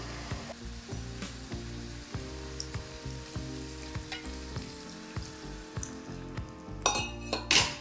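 Chicken sukka masala sizzles in a pan as a little water is added, with steady frying noise broken by repeated scraping and stirring strokes, then a louder hiss bursting up near the end.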